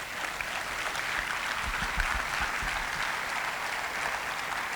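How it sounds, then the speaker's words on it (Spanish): Steady applause from a church congregation fills the whole stretch, a dense, even wash of clapping with no one speaking. "Denle un aplauso al Señor."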